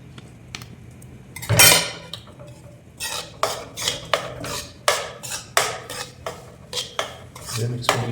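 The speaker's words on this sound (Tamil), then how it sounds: "இதை மிக்ஸ் பண்ணிக்கிட்டே இருந்தீங்களா" Roasted laddu mixture being stirred in a pan: a ladle scrapes and clinks against metal in a steady series of strokes, about one per second, close and clear.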